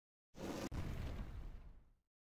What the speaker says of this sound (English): When Noel and Durst get down, the ceiling of the corridor collapses.